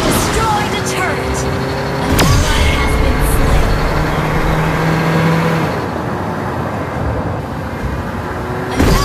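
A car engine accelerates in the Mobile Legends video game as the hero Johnson, steady broadband roar running throughout alongside game effects, with a voice talking over it.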